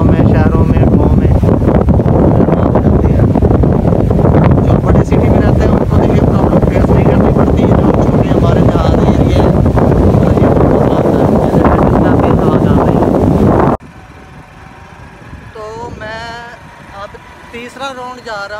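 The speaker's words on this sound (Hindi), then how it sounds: "आपको शायद मेरी आवाज़ क्लियर ना है क्योंकि बहुत तेज़ हवा चल रही है।" Strong gusting wind blasts straight into the microphone outdoors on a sandy, open stretch near a town, a loud continuous roaring rumble for about fourteen seconds before it drops away to a much quieter background.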